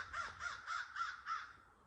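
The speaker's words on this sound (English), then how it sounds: "Good morning, Crow." A crow caws five times in a steady, evenly spaced series outdoors, each call harsh and fairly close, with no other voices.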